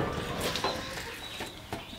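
Chickens cluck in short, scattered bursts over a steady background, with a few sharper calls standing out at moderate distance and no voices.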